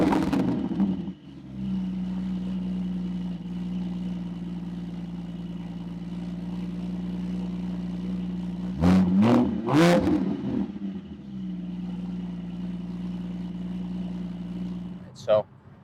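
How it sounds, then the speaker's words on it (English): A 2022 Porsche Boxster GTS cranks and catches, settles into a steady, even idle, then gives a couple of sharp throttle blips around the middle before dropping back to a smooth idle. "let's start her up and see how she sounds"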